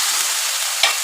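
Spice paste of ground cumin and other masala stirred and frying in a pan, a steady loud sizzle with a couple of soft spoon scrapes, close and alone without talk.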